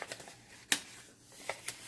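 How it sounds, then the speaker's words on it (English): Tarot cards from a newly unboxed Sacred Bridges deck being shuffled close by, giving a few quiet riffling bursts with faint rustle between them and no talking. "So I'm going to shuffle and get it done now."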